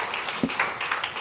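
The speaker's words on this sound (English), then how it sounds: "Please give them a little applause" An audience at an AR/VR policy conference gives the panelists a short, steady round of applause, a brief wash of many hands clapping at moderate loudness.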